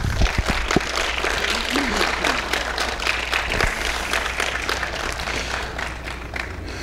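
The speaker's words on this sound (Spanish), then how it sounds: "Un fuerte aplauso." Steady applause from an audience, a dense wash of claps holding at an even level throughout.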